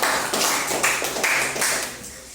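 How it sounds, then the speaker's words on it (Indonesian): Students clapping together in a classroom at SMKN 3 Tanah Putih, a quick run of rhythmic hand claps in short bursts, close and fairly loud, with no voices over it. "Tepuk tangan untuk."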